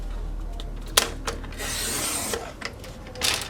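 A Cricut cutting machine cuts paper sheets nearby, giving a few sharp clicks, then a steady rasping scrape for about a second, then more brief taps and a final short burst, with no talking.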